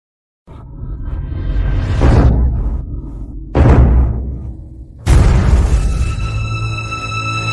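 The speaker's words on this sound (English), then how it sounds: "The pavilion where Mr. Ashford's banquet is! It is on fire!" A banquet pavilion burns, with a deep whooshing roar of fire broken by two sudden heavy booms of explosions, each swelling into sustained loud rumbling flames.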